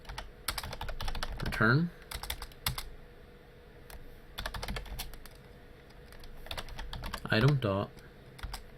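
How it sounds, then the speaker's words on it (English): Keys clatter in quick runs of keystrokes on a computer keyboard as code for a Minecraft 1.8.9 mod is typed, with someone talking over parts of the typing. "Now inside the brackets, we're going to type"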